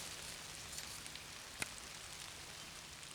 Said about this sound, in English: Planting in the rain.